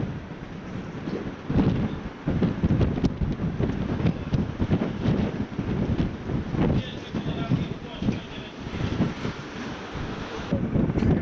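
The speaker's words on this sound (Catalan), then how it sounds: "Quina ventada que fot" Strong wind buffets the microphone in a continuous, loud roar with gusty surges, heard outdoors in a city centre in Italy on a summer day.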